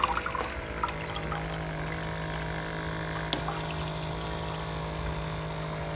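A Bartesian cocktail machine on a rinse-and-clean cycle, its pump drawing water from the tank through the line with a steady low hum and trickle, plus a single sharp click partway through.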